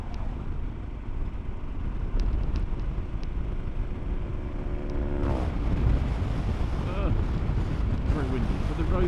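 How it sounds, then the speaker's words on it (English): Heavy wind buffeting the microphone of a rider on a motorcycle touring Belgium and Holland, a loud continuous rumble with engine tones rising partway through. "Very windy"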